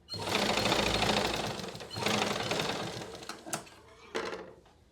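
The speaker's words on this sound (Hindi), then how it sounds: "अब इस पे एक बार सिलाई लगा लेंगे।" Sewing machine running in bursts while stitching blouse fabric, with two long steady runs followed by shorter stop-start stitching, close and fairly loud, with no talking.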